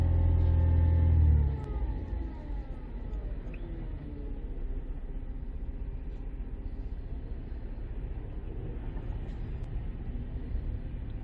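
A 2012 Chevy Traverse engine runs with a low steady drone after an initial louder rev settles down in the first two seconds, close and continuous, with no talking.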